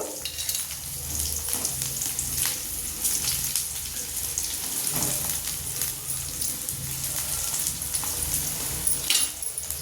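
Curry leaves and onion sizzle in hot oil in a pan, a steady close frying hiss with occasional stirring scrapes throughout.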